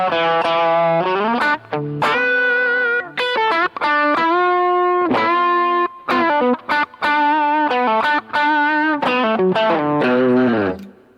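An electric guitar runs through an amp modeler with a Tube Screamer overdrive, playing a loud, sustained lead line of bent and held notes with short gaps between phrases.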